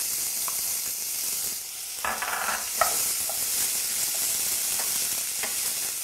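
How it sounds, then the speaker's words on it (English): Onions for a chickpea curry fry in a pan with a constant sizzling hiss, with a few clattering stirs and scrapes partway through. "And I'm going to just brown my onions."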